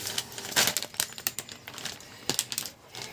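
Dry pasta dropped into a pot of boiling water, giving a scatter of sharp crackling clicks and rattles in irregular bursts, close by, with no talking.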